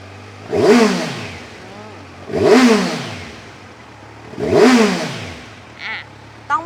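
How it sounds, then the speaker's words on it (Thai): A 2018 Kawasaki Versys 1000 with its stock exhaust revs three times in steady succession, each blip rising sharply and falling back to a low idle, followed by two short quieter bursts. "ลองมาเบิ้ลท่อเดิมให้ฟังนะคะ"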